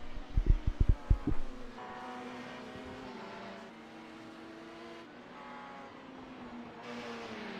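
Racing cars on a flying qualifying lap at Watkins Glen in an endurance racing video game: a few sharp low engine bursts early on, then a steady droning engine tone with rising and falling pitch as the cars lap.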